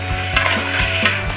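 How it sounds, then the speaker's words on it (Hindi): Chicken fried with yogurt in a pot while being stirred. Rhythmic scraping strokes land roughly every half second over a steady sizzle and hum, close and fairly loud. "अच्छी तरह इसकी चिकन की भुनाई करते हैं।"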